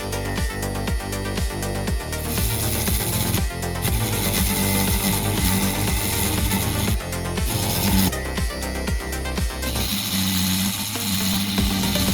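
Contacts on the circuit board of a SEGA Mega Drive II console are sanded by hand, making repeated scratchy rubbing strokes in short rhythmic bursts with brief pauses, close and fairly loud, with no speech.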